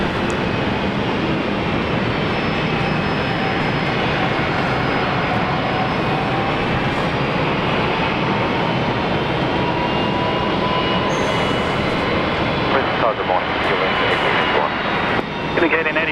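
Airliner engines wind up at Brisbane airport in a loud, steady roar that fills the whole stretch. A faint high whine runs through it, and a person talks over the engine noise.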